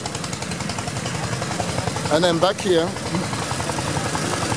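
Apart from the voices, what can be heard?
engine-driven water pump running at fish farm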